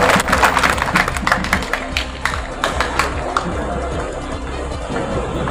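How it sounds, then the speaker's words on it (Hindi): An audience at a university youth festival gives loud, sustained applause. Sharp, dense claps rise near the start, then settle into steady clapping, with a voice faintly underneath. "वो ट्रिपल ताली के लिए आप लोग जोरदार ताली दें"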